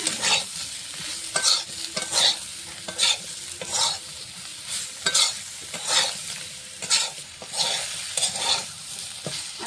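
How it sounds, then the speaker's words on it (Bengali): Pointed gourd (potol) frying in oil in a pan while being stirred, a continuous soft sizzle broken by regular scraping strokes of a spatula every second or so, close by and fairly quiet. "পটলটা ভালো করে ভাজা হয়ে গেছে"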